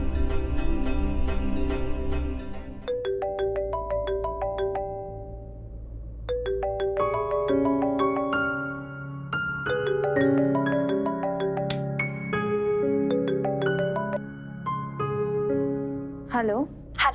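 A telephone rings with a repeating melodic ringtone while someone calls a doctor, layered over soft drama background music at moderate volume, with no speech.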